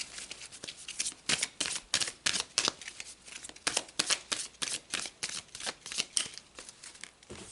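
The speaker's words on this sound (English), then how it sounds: "let's pull some more cards" Tarot cards being shuffled by hand: a quick, close run of rhythmic riffles and flicks that continues steadily, with only brief gaps between strokes.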